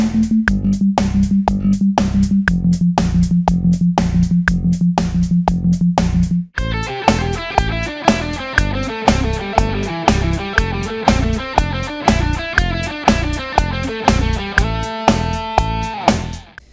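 Guitar picking steady triplets against a 4/4 click, first a sharp muted single-note pattern, then brighter ringing chords, each group of three evenly spaced and loud, with no voice over it.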